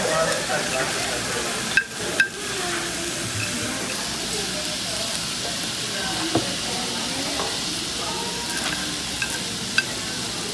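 Meat fries in a pan with a continuous loud sizzle and hiss while it is stirred, marked by a few sharp scraping knocks, and people talk faintly in the background.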